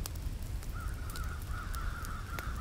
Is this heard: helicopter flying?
no